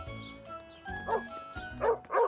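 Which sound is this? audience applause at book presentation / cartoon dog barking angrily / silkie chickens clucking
cartoon dog barking angrily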